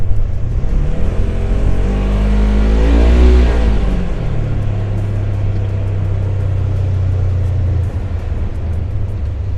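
Polaris General UTV driving on a trail, its engine loud and close, revving up and falling back before settling into a steady rumble with wind and rattling over rough ground.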